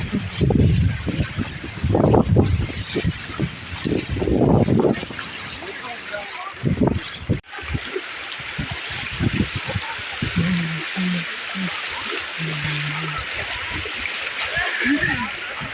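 A flooded village stream rushes past in broadband water noise, steady and close, while people talk over it through the first half and a brief tonal hum appears later.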